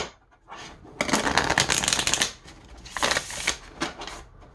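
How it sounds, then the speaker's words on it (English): A gilded tarot deck is riffle shuffled at close range, two quick fluttering bursts of cards snapping together separated by a brief pause, crisp and fairly loud with no talking. "it riffle shuffles like a dream"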